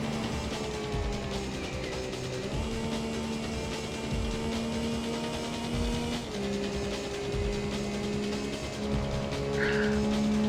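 Race car engine in the PS1 racing game High Stakes, a continuous loud droning whine that steps in pitch with gear changes, plus faint tire squeal, with no talking.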